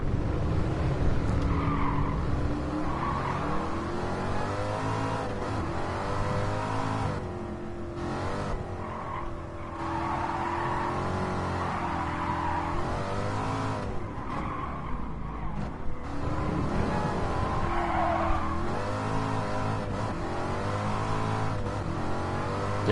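Racing cars with big-block 427 or 454 V8 engines, including an old Camaro, a C2 Corvette and a Cobra, roar continuously in Gran Turismo Sport, engines revving and shifting with tire squeal throughout, loud and close.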